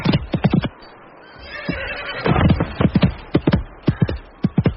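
A horse neighs loudly and close in a rapid series of sharp, descending whinnies, with a short lull of softer snorting before more bursts, alone without talk.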